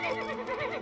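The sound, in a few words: horse neighing in a cartoon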